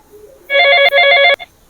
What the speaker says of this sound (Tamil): ஃபோனு வேறு அடிக்குது